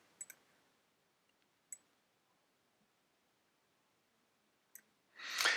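Mouse clicks during a click-and-drag, a few faint, sharp ticks spaced apart in a quiet room, ending in a brief louder rustling burst.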